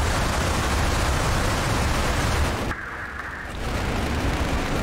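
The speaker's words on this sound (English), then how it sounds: "it's a big Saturn rocket that we're launching" A big Saturn rocket launching in Mars Horizon, a loud, steady roaring rumble that drops away briefly in the middle and then resumes, with no talking.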